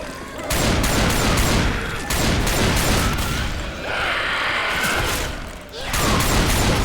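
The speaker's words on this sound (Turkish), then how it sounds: "Yine o pompalı." Shotgun blasts and other gunfire in Left 4 Dead 2 repeat in dense, loud bursts through most of the stretch, with brief lulls between volleys. A voice talks over the shooting.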